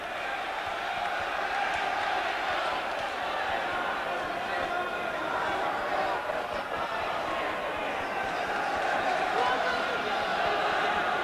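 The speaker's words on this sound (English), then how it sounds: "And this Belfast crowd trying to rouse McAuley" Belfast boxing crowd at a title bout roars steadily throughout, a dense continuous wall of cheering and shouting with a commentator talking over it.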